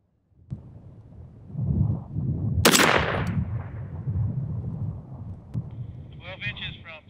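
A single sharp rifle shot from a CMMG Mk3 DTR2 in 6.5 Creedmoor cracks loud and close during a moving-target shooting drill, followed by a brief rumbling decay, with wind and outdoor noise around it.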